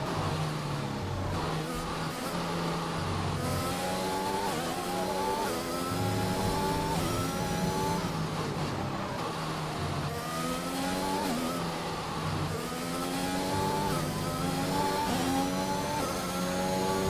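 Formula 1 race car engines in the F1 2021 racing game scream through repeated rising gear sweeps and shifts, a loud continuous whine that climbs, drops and climbs again throughout a final race lap.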